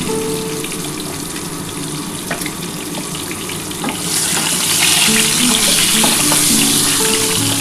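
Frying in a hot pan for a light potato and egg curry gives a constant loud sizzle, with scattered pops and a stronger surge about halfway through.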